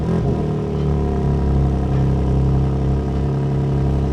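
A BMW M2 engine runs with a dense, steady low rumble and mild revving close by, its tone rising and settling slightly over a few seconds.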